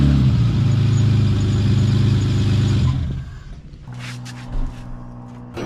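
A BMW E30's engine runs loud and steady at close range, then drops away into a quieter low idle.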